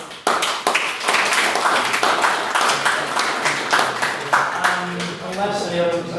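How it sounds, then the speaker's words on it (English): Applause from a student debate audience, a dense burst of clapping hands that carries on for several seconds, with a few voices mixed in near the end. "So an applause to both of them."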